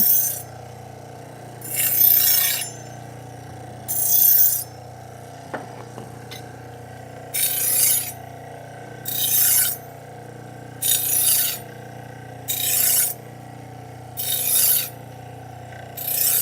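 A knife is sharpened with light back-and-forth passes, giving nine evenly spaced rasping strokes, each about a second long, close and clear over a faint steady hum.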